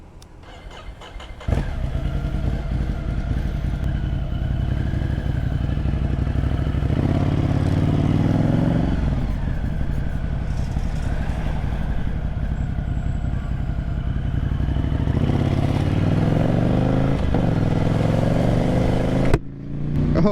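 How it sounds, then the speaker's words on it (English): A Ducati Monster 797 motorcycle riding on the road: a low engine drone that rises after a sharp onset, holding a steady rumbling tone with gear-change dips and wind noise, close and loud. "as you see, I am on a motorcycle"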